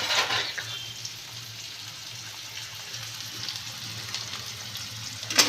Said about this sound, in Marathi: आता कांदा भाजतोय छानपैकी